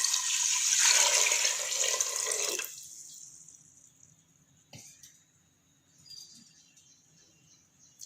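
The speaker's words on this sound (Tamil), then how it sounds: "5 கப் தண்ணி ஆட் பண்ணிக்கிறேன்." About five cups of water pour steadily into a pressure cooker for a few seconds, then stop, followed by faint drips and light clinks of the metal pot.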